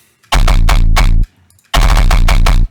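A heavily distorted, low wavetable synth bass, pitched down five semitones with a gritty burr, plays two loud, sustained buzzing notes separated by a short gap.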